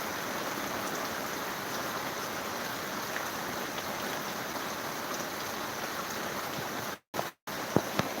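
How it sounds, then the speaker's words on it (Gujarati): Steady monsoon rain in Dumlav village, Pardi taluka, a dense, even hiss of falling drops on surfaces, continuous and fairly soft, with a couple of brief dropouts near the end. "દાદરા દાદરા નગરવેલી હવેલીમાં પણ વરસાદ ચાલુ છે"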